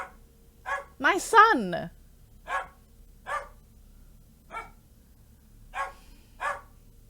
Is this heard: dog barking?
yes